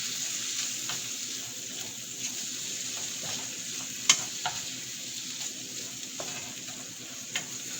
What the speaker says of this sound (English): you want to saute until perfectly cooked